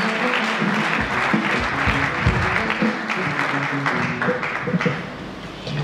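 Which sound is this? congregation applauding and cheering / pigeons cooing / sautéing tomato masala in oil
congregation applauding and cheering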